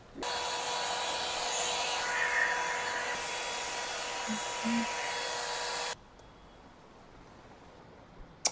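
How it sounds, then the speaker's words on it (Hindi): A pink and black hair dryer running on cool mode: a loud, steady close-up whoosh lasting about six seconds, then it cuts off, leaving quiet room noise and a small knock at the end. "ये रहा मेरा पिंक एंड ब्लैक कलर का cute and aesthetic hair dryer. मैं इसको कूल मोड पे चलाती हूँ।"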